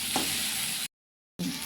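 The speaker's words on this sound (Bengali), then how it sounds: "ভাজা ভাজা হয়ে গেছে আলুটা।" Potatoes and onions fry in a pan with a close, steady sizzle and a brief stir, interrupted by a short silent gap before the hissing resumes.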